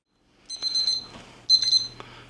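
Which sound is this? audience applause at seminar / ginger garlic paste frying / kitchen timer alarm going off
kitchen timer alarm going off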